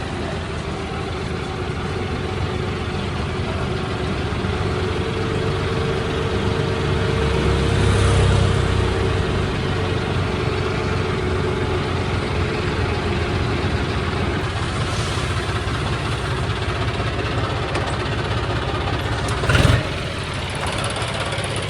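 A car engine runs steadily as the vehicle slides, a low, continuous mid-pitched drone that swells briefly midway and is punctuated by a sharp knock near the end.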